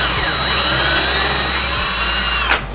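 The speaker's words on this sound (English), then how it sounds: "Got a small drill bit here. I'm gonna do a pilot hole here" A small drill bit bores a pilot hole into plastic, the power drill whining loud and close at a steady high pitch before spinning down abruptly near the end.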